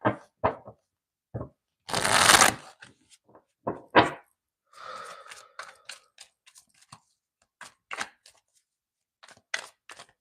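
Tarot cards are shuffled and handled in short bursts of crisp snaps and riffles, one longer rustling flurry among scattered taps and clicks, fairly quiet and close with no talking.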